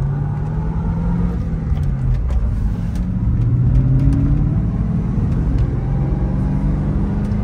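A 1996 Ford Mustang SVT Cobra with a five-speed accelerates through a shift, its loud engine rising in pitch, dipping, then climbing again with a low rumble, heard close from inside the car.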